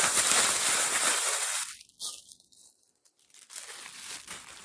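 A plastic bag crinkles and rustles up close, loud scrunching at first, then dropping away to near silence before softer crackles return.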